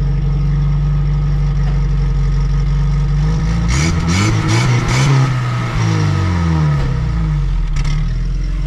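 A Geo Tracker fitted with a new exhaust header idles steadily, then is revved up sharply a few times midway before settling back to a low, rumbling idle, heard close and alone.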